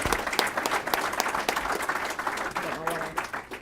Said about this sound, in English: Give another round of applause for Lee,